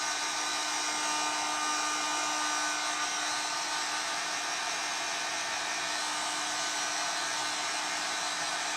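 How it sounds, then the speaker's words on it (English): A heat gun blasts hot air over a glass jar being prepared for reverse decoupage, a steady, close, unbroken airy roar with a faint whine that holds level throughout with no voices. "We're going to be using the heat gun quite a bit because everything will need heating."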